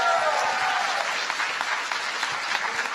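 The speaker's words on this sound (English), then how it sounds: "I do appreciate so much that you applaud that" An audience at a new student orientation applauds, a dense wash of clapping from many hands that stays steady and fairly close for a few seconds.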